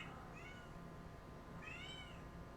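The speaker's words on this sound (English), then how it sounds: "My cat is going meow meow meow." A pet cat meows twice, a short call followed by a longer one, fairly near but quiet over a steady background hum.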